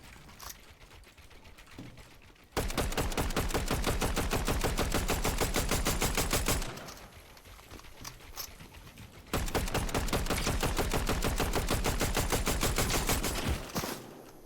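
Rapid automatic gunfire from a weapon in the Fortnite video game rattles out in two long, loud sustained bursts, separated by a few seconds of quieter background noise.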